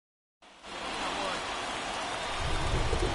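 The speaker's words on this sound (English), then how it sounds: "This rain is not letting up." Steady rain falls over a baseball game, a dense continuous hiss that swells in after a brief silence and grows slightly heavier with low rumbling toward the end.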